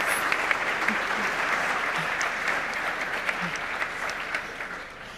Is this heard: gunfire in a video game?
no